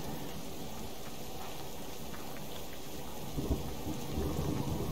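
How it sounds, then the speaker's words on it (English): Steady rain hisses throughout in the video game Subsistence, with a low, rumbling roll of thunder swelling near the end, no voices. "I love the accuracy of the thunder and rain and stuff sounds on this game"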